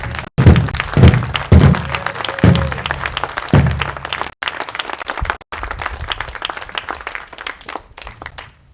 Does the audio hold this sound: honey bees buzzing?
no